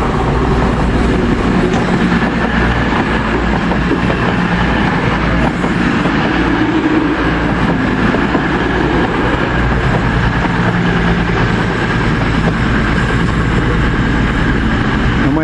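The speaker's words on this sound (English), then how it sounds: "It's a fast train approaching" A fast train roars past a station platform, producing a loud, steady rumble with rail clatter that persists for the whole stretch without a clear build or fade.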